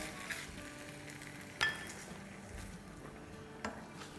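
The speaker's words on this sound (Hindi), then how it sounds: "और अब इसमें हम डालेंगे आधा कप टोमेटो प्यूरी।" Half a cup of tomato puree sizzles in a hot pan with melting butter while cooking chicken over rice, a steady low frying crackle with a couple of sharp clinks of a utensil against the pan.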